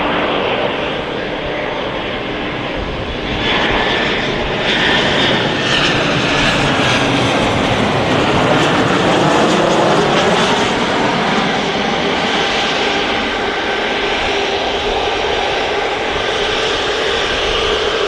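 A Ryanair Boeing 737 Max jet starts moving at Manchester Airport, its engines a loud, steady roar that swells slightly, heard continuously from a moderate distance.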